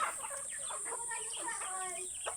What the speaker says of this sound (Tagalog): nag-aantay na yung aking mga manok para pakainin